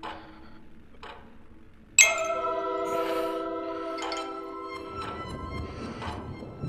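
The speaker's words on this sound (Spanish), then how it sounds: "creo que me suena como un teléfono" In The Exorcist: Legion VR game, a bright metallic ring like an old telephone bell sounds after a soft tick, sustained and ringing out with repeated strikes, fairly close and without talk.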